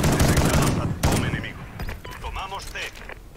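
Rapid bursts of gunfire from the video game Call of Duty Ghosts crackle in dense volleys, fading and returning, with a voice talking over the shooting.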